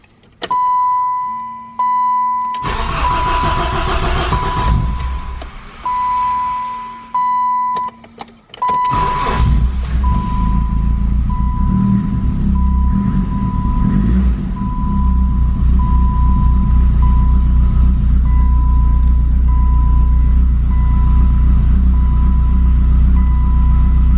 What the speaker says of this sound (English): let's give it a crank